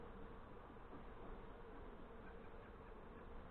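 Honey bees from a nucleus colony swarming around their comb and new hive, a dense continuous buzz, faint and steady with no voices.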